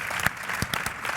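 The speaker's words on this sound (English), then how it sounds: "it's a round of applause real quick" At the SEMA Launch Pad 2013 live event, a short burst of audience clapping is heard, with scattered, distinct claps over a soft crowd wash.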